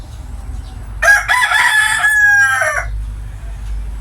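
A gamefowl rooster crows once, a loud, close cock-a-doodle-doo lasting about two seconds with a falling tail, over a low steady background hum.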